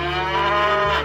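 A cow gives a single loud, close, sustained low moo lasting about a second.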